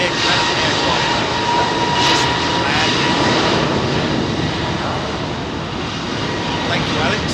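A Singapore Airlines Airbus A380 roars loudly on departure from Heathrow runway 27R, a broad, sustained jet engine rumble close by, with a voice talking over it.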